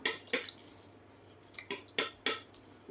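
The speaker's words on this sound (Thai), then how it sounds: "เฉาะไปเถอะให้มันมีเสียงอ่ะ จะได้รู้ว่าเฉาะอยู่" Knife strikes chopping into the rim of a coconut, a handful of sharp separate knocks with gaps between, fairly close and alone.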